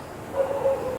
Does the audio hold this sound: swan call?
no